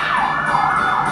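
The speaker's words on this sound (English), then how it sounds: "darn siren, why you have to come right now" Emergency vehicle siren wailing outside, loud and continuous with a sweeping rise and fall, heard alone without talk.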